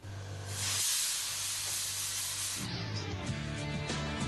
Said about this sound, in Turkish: hırsızların yeni korkulu rüyası buharlı alarm sistemi